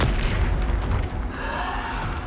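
The Bombarda spell explodes in the Hogwarts Legacy video game with a loud, heavy blast and a rumbling boom that rolls on, fading only slightly over a couple of seconds.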